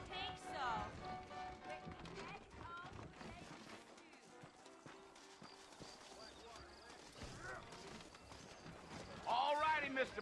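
Horse hooves clip-clop in the Red Dead Redemption video game, a steady trotting patter running through most of the stretch beneath game dialogue, music and other in-game sounds.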